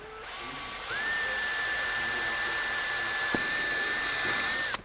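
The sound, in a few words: step-up drill bit drilling a bumper hole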